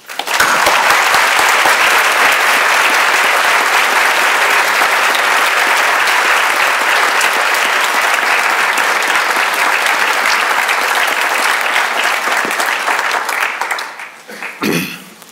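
A lecture hall audience at BYU gives loud, sustained applause to welcome Judge Lynn W. Davis. The dense clapping runs for about fourteen seconds before fading, and a voice begins right at the end.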